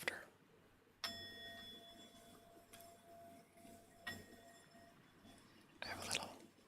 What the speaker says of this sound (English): I have a little, like a bell thing.